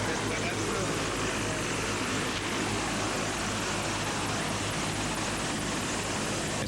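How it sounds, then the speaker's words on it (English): A waiting helicopter at an emergency medical evacuation scene produces a loud, constant roar of engine and rotor that holds steady throughout and fills the whole clip. "As the flight crew and the paramedics bring their patient to the waiting helicopter, Life Flight pilot Mitch Mignano stands"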